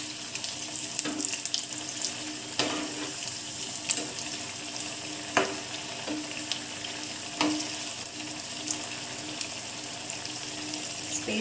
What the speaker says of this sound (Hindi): इसे हमें एकदम क्रिस्पी करके फ्राई करना है, ये क्रिस्पी रहेंगे तो बहुत टेस्टी लगेंगे।